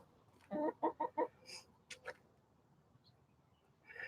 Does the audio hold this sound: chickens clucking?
yes